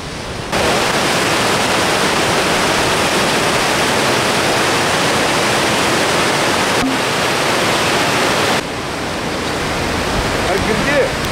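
Rushing river on a trip through Bosnia and Herzegovina and Montenegro, a loud dense roar of water close by, steady throughout with a brief drop near the end.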